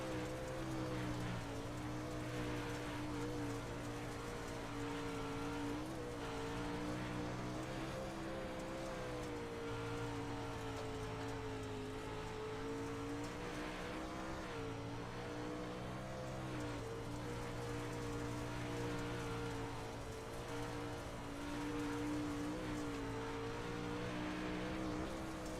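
Dirt late model race car engine in the Firearms.com Dirt Late Model Series, the driver working the throttle near the wall: a steady, buzzing engine drone with strong low harmonics that rises and dips slightly in pitch throughout.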